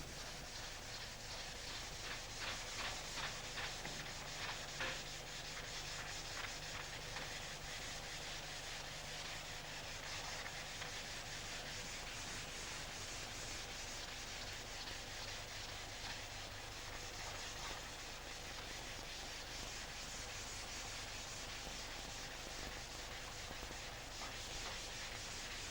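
Faint, repeated scratchy rubbing strokes of 150-grade paper on a rubber sanding block during car body repair, a soft continuous rasp with a slight back-and-forth rhythm, no talking.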